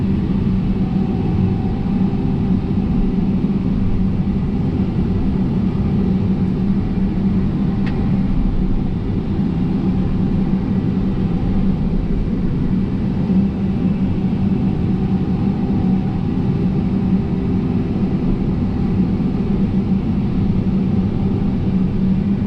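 An excavator dredges a canal, its diesel engine giving a steady, close, loud low rumble that holds without a break from start to finish, with no voices.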